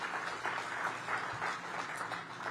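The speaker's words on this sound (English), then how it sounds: "let's give them a round of applause." Audience members at a community-space groundbreaking ceremony keep up a soft, even patter of clapping that holds steady throughout, heard from some distance.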